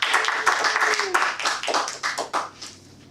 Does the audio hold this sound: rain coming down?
no